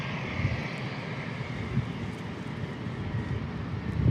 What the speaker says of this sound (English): That was the West Coast Wonders Max 9 from Alaska.